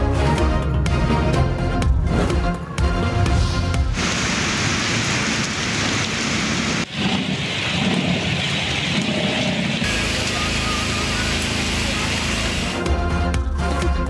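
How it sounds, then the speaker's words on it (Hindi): Heavy monsoon rain pours down in Jahania, Pakistan, a loud, dense and continuous hiss of downpour that holds steady throughout without a break. "जहानिया में बादल जमकर बरसे"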